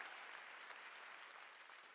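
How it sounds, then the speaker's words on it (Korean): Church congregation clapping through a Sunday afternoon worship service in Gwangju, a steady dense wash of many hands that holds even and moderately loud for the whole span, easing slightly toward the end. "박수 쳐"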